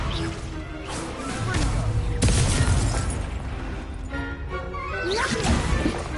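Spell effects from Hogwarts Legacy burst in quick succession, with whooshes, cracks and fiery blasts layered close together, while a player's voice speaks through the combat.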